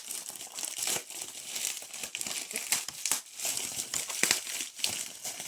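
Packaging for a pair of hype smart watches is torn open by hand, with close, busy crinkling and ripping in irregular bursts throughout.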